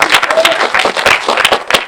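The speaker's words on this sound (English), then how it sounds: "Hold the applause." Audience applause at a live magic show during a magician-waiter act, dense clapping throughout, loud and close, with a few sharper claps standing out.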